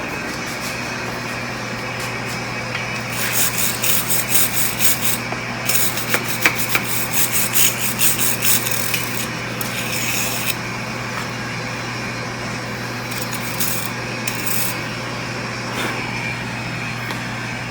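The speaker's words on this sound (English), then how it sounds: "let me get the wire brush, take a better look at it." A wire brush scrubs over a drift car's transmission casing in repeated rasping strokes, close and steady, over a constant low background hum.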